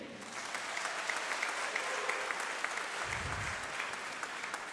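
An audience at a high school commencement ceremony claps steadily in a large hall, a dense, even wash of applause that holds through the whole stretch.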